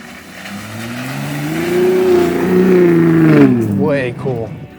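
A Steeda Ford F-150 Raptor Edition pickup's engine rolls forward in four-wheel drive, its loud, close drone swelling steadily and then easing off near the end.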